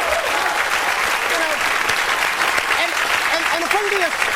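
A studio audience at a comedy talk show breaks into steady, dense applause that fills the room evenly, with a voice speaking over the clapping.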